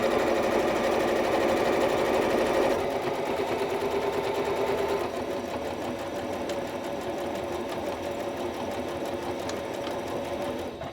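A sewing machine stitching two layers of cushion fabric together for a deck: a loud, continuous rapid mechanical rattle running the whole time, close by, easing slightly partway through, with no talking.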